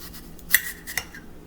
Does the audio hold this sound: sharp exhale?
no